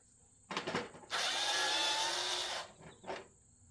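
A Harbor Freight electric screwdriver with a convertible pistol grip spins up in a short, steady motor whir of about a second and a half, framed by a few handling clicks close by.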